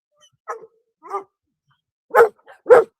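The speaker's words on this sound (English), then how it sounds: "He just barked in the microphone." A dog barks several times close to the microphone, short sharp yaps spread across a few seconds with quiet gaps between them.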